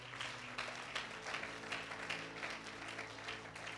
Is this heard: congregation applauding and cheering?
yes